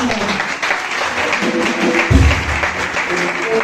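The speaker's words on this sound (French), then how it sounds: "Gros applaudissement pour nous." Steady applause from a church congregation at a youth presentation, a dense, even clatter of many hands, with a brief low thump partway through and faint voices mixed in.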